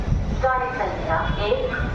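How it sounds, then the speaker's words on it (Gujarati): A local passenger train arriving at a station rumbles close by with a low, heavy roar while people talk over it. "ચાલો હવે આપણે ટ્રેન આવી ગઈ છે, ચડીએ આપણે."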